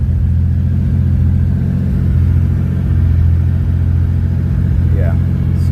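A Porsche 911 engine holds a steady high idle around 1100 rpm as it warms up, a loud, close, even rumble throughout with a voice briefly heard over it.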